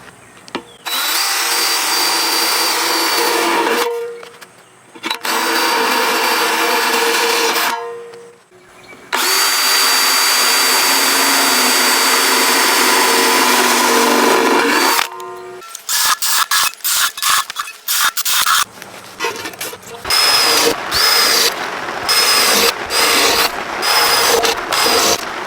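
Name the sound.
power drill cutting metal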